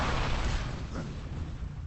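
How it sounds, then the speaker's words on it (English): Rocket explosions from Unreal Tournament 3 during a competitive deathmatch, a continuous dense rumble of overlapping blasts and booming bursts, fairly loud and sustained with no talk over it. "Again, spamming out some rockets."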